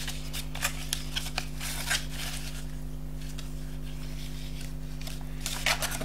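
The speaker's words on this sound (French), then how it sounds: "Et on marque notre pli tout en haut." Paper is creased and folded for a handmade scrapbooking box: soft, close rubbing and swishing strokes come in short bursts over a steady low electrical hum.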